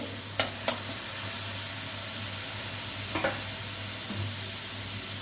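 Spices sauté in hot oil for a thin home-style rohu fish curry, giving a steady close sizzle with a few sharp scrapes of a spoon against the pan.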